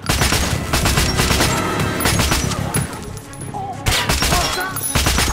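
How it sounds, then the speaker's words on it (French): Dense, sustained automatic gunfire and bursts of shots from the video game Metro Last Light fill the scene loudly and nearly continuously, with brief shouting voices mixed in. "On encaisse des tirs! Attention!"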